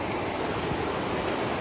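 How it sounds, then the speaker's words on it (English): Heavy rain pours down steadily on a hike in Victoria's High Country, a dense, even hiss of falling water heard up close with no break and no voices. "it's raining quite heavy now."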